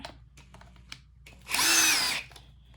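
A short whine of a power drill removing screws from a Bissell CleanView vacuum spins up for under a second, preceded by a few small clicks and handling noises.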